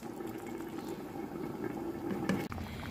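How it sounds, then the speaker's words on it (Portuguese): Fish moqueca capixaba stew bubbling steadily in a pot, a continuous close simmer with soft bursting bubbles and one brief louder clack near the end. "Vou colocar aqui, vou deixar ferver até cozinhar esse peixe"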